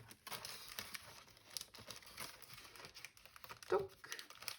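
A plastic laminated envelope crinkles and rustles in close handling as items are slipped back inside, soft irregular crackles with one sharper crinkle near the end, under quiet speech.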